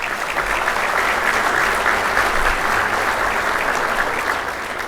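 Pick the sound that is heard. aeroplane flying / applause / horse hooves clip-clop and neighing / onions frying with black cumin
applause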